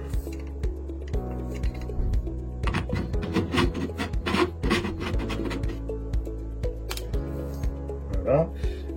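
Extension rods being fitted onto a Lux-Vision 3 low-vision lamp, giving repeated close scraping, rubbing and ticking sounds from the parts being handled.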